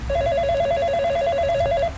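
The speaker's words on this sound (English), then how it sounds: "the phone rang." An electronic telephone ring trills rapidly for about two seconds, a bright warbling tone that stays clear and steady throughout over a faint background hum, with no voices.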